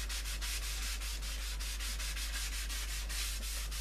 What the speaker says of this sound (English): You can see I'm rubbing basically with the actual grain of the wood.